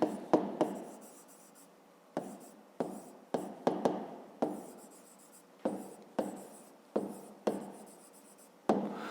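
Pen or pencil on paper as a grade 5 math solution is written out, a series of short scratchy strokes and taps in uneven bursts, close and quiet, with no speech over it.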